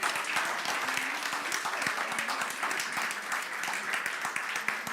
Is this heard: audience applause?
yes